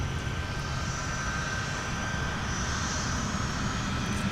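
Sprint 812, a jet airliner, takes off from runway 12 right at Minneapolis–Saint Paul airport with a continuous, even engine roar and no voices over it.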